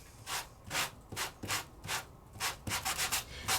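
A sanding tool rubs back and forth over raised embossed paper in steady rhythmic strokes, a soft close-up scratchy hiss repeating about twice a second.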